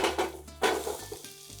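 Vegetables sizzle loudly in a very hot pan with olive oil, a busy frying hiss with a couple of stirring bursts and pan clatter, close up and with no talking.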